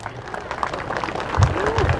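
Audience applause at a political speech, a steady crowd clapping texture with a brief vocal sound rising over it, fairly continuous and moderately loud.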